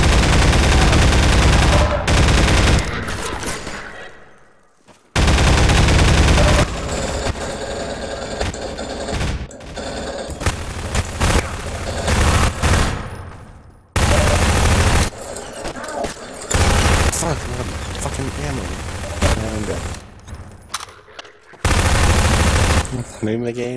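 Enemy soldiers open fire in the Half-Life 2 co-op game: loud, close bursts of rapid automatic gunfire. The volleys repeat with short silent gaps between them, and one dense barrage follows another across the whole stretch.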